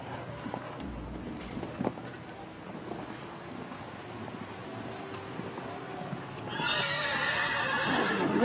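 A show jumping horse on a World Cup qualifier course moves with steady, unhurried hoofbeats and an audible whinny, while wind and open-arena ambience run underneath and grow louder near the end.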